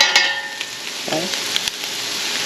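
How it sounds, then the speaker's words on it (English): Ground beef with seasonings sizzles and fries in a pot for copycat Wendy's chili, with a few clinks and scrapes of stirring over a steady close hiss. "Let me stir this up a minute"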